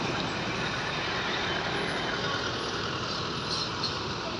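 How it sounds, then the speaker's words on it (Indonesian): A cargo bus from Aceh rumbles past at close range, a steady, loud broadband engine and road roar that holds evenly throughout with no voices. "Oh, bus kargo bosku."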